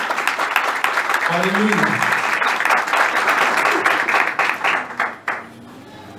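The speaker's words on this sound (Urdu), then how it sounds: "آئے زوردار تالیاں بجائیں گے" A church congregation claps loudly together in a dense, sustained burst of applause, with voices calling out over it before the clapping tapers off into a few scattered claps.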